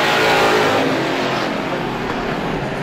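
Race car number 90 roaring past on a speedway during a heat race, a loud, dense engine blare that fades slightly as it goes by.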